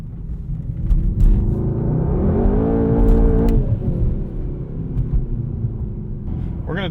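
A 2020 Mercedes-AMG GT 63 S engine pulls hard on a test drive, a loud, close rumble whose pitch climbs steadily before easing off and settling into a steady drone.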